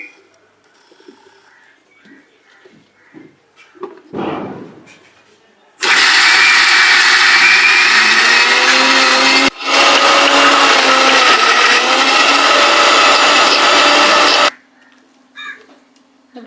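A mixie blender grinds soaked wheat for halwa in a loud, steady whirr lasting about nine seconds, with a brief dip partway through, after quieter kitchen handling sounds and talk; the motor then cuts off abruptly.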